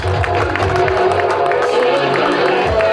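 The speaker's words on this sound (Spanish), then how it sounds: "Aplausos para esta categoría élite" An outdoor crowd at a mountain bike enduro awards ceremony claps and cheers for the elite category winners, a dense, sustained wash of applause with voices mixed in.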